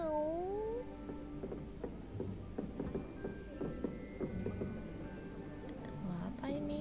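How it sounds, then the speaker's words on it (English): A cat meows repeatedly in the video game Hogwarts Legacy, several rising and falling calls near and clear over a low game ambience, with faint speech-like sounds mixed in. "Another cat."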